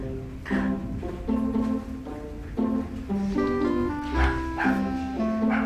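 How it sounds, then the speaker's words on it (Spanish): A small dog barks indoors in a rapid series of sharp, tonal yips, about a dozen in quick succession, fairly close and loud, with no talking. "Al que escuchan es a mi perrito."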